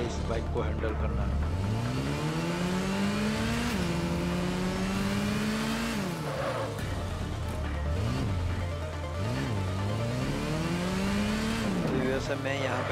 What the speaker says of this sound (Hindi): बहुत मुश्किल है इस बाइक को हैंडल करना।